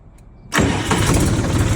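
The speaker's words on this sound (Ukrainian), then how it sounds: "Значить, Глушиться і заводиться він з ключика." A Scout XT-244 tractor engine is started with the key: after a brief quiet moment it catches abruptly and settles into a loud, rough, steady idle close by.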